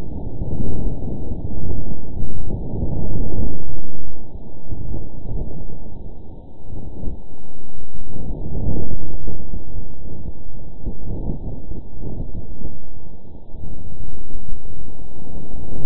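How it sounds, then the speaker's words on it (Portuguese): Wind on Mars picked up by the InSight lander, a low, muffled rushing roar that swells and fades in gusts over sixteen seconds, alone with no voices. "não temos que apenas imaginar o vento passando pelo InSight"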